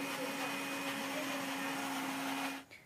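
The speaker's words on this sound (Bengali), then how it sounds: "এখন মিক্সারে চিংড়ির মালাইকারির জন্য নারকেলটা বাটা হচ্ছে।" An electric kitchen mixer grinds coconut for prawn malai curry with a steady, loud motor whine and a constant grinding roar, which winds down abruptly in the last moment.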